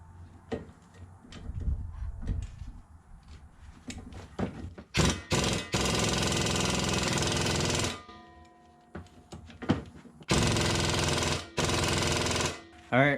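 A pneumatic air tool works bolts loose on a Pontiac G6 during a wheel bearing and caliper job, sounding as several long loud buzzing bursts after scattered clunks, close by.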